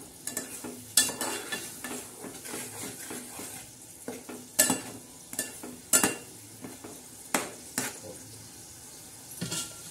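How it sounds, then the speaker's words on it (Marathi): Spices with cumin being sautéed in a pan, a soft sizzle under repeated spoon stirs and sharp scrapes against the metal, fairly close and steady, with no talking. "आता हा असा मस्त गरा गरा असं छान असं आपण परतून घेणार आहोत।"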